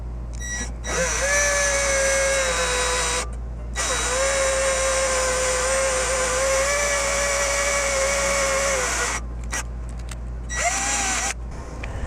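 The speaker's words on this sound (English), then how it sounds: "let's drill some holes for this" A power drill bores holes for mounting a Gree mini split unit, whining loudly and steadily in two long runs with brief stops and a short final burst.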